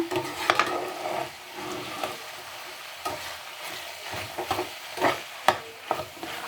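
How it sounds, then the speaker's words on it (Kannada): Grated coconut being stirred into a mixture in a pan: irregular close scrapes and rustling stirs over a faint sizzle, with several sharper knocks of the utensil and no talk. "ಕಾಯಿ ತುರಿ ಹಾಕ್ತಾಯಿದ್ದೀನಿ. ಇದನ್ನು ಹಾಕ್ಬಿಟ್ಟು ನೀಟಾಗಿ ಒಂದ್ಸಲಿ ಕಲಿಸ್ಕೊಂಬಿಡೋಣ."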